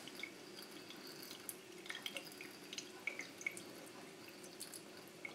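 Water dripping near a charged electrostatic loudspeaker, a steady run of small close drips and light splashes over a soft background hiss, with no voices.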